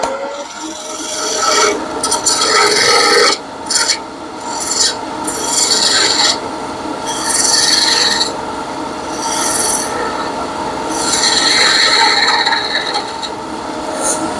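A wood lathe spins while a chisel shapes a wooden spaghetti server, giving a loud, continuous rasping scrape that swells and fades in long strokes as the tool moves in and out of the wood, with no talking.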